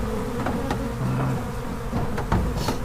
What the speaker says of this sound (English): Okay, goodbye, killer bees